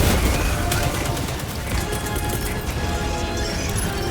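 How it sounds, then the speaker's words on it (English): Enemy artillery explosions in Helldivers 2 pound in a dense, loud barrage of overlapping blasts and crashes that runs without a break. "Warning, you are in range of enemy artillery."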